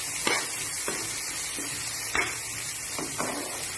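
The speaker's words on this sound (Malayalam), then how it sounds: "ജസ്റ്റ് ഒന്ന് വഴറ്റുക." Beetroot thoran sautéing in a home Kerala kitchen pan: a soft steady sizzle with several light scraping stirs of a spoon, close and fairly quiet, no talking.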